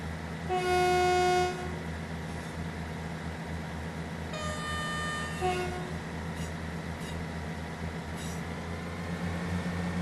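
A Class 158 diesel multiple unit in the Train Sim World 3 video game rumbles steadily as it throttles up. Its horn sounds in a loud tone near the start, and shorter horn toots follow partway through.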